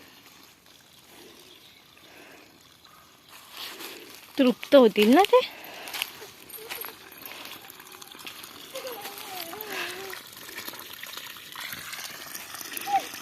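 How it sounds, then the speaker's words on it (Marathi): Borewell water poured and trickling onto young cashew saplings on a Ratnagiri village farm, a soft splashing under steady close talk with a dog's bark and outdoor noise around it. "त्यांना आता पाणी हवं आहे म्हणून बोरिंगवर आणून घालतोय पाणी"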